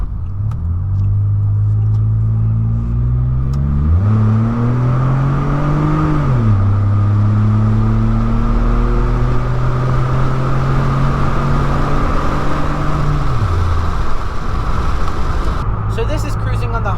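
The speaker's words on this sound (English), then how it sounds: "windows down, cruising about 40 miles an hour, really not too bad." A Pontiac G6 with a muffler delete cruises at about 40 mph with the windows down, a loud steady exhaust drone that shifts pitch as the engine revs change, with road and wind noise throughout.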